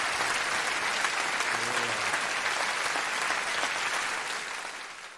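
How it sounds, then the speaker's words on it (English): A theatre audience at the London Palladium claps in a dense, continuous round of applause that stays strong for several seconds before tapering off at the end. "you give a nice round of applause to all those people for helping together"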